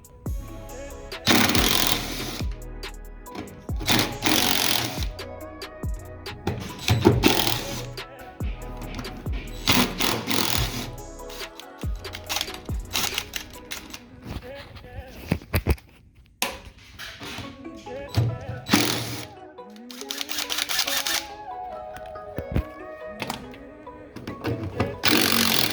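Screws come out of a Ford Explorer fuel pump assembly with repeated bursts of a power screwdriver whirring, interspersed with clicks, rattles and handling noises, close up and uneven in rhythm.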